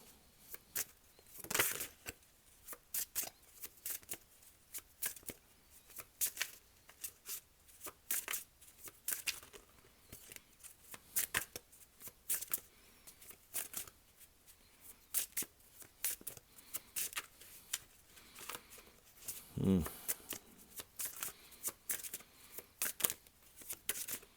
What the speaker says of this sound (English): there may be moments of silence while I may be shuffling the cards